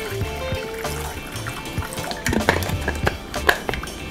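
Water is poured into a bowl of bhang thandai paste for Holi. A close, steady pour splashes and trickles, then rises into clinking, sloshing bursts near the end, with no talk.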